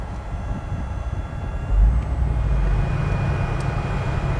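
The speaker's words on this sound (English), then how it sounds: "Let's see how our little 65 Nova wagon runs." A 1965 Chevrolet Nova station wagon drives along with a continuous low engine rumble and road noise heard from inside the car, growing slightly louder partway through.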